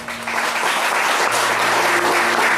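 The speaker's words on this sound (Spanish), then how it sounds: "Den un aplauso." Congregation applauding in a church service, brisk continuous clapping rising quickly and holding loud for a couple of seconds, with a faint low hum underneath.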